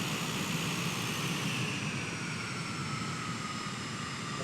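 Airplane rolling down a runway in a flight simulator game, a steady loud engine drone with a whining tone that shifts slowly, continuous and close with no talking.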